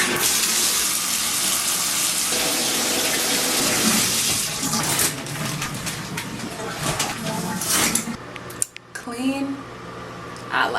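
A home shower runs with a steady broadband hiss of spraying water, with bird calls and scattered background sounds partly over it, followed by a few clunks and a shift in the flow near the end.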